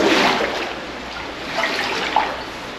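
Close, continuous sloshing and splashing of water inside an underground mine as someone wades out of it, steady at first with a brief louder splash near the end.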